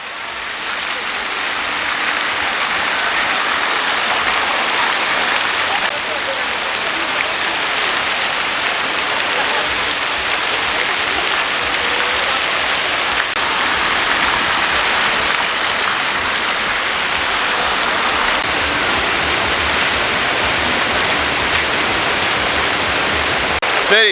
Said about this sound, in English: the water features just get better and better